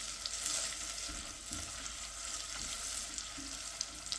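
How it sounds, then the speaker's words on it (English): Sliced onions frying in butter in a pan, a steady close sizzle with faint crackles and occasional soft stirring knocks, continuous and unbroken with no talking. "2 tablespoons of sliced onions will be added to the butter."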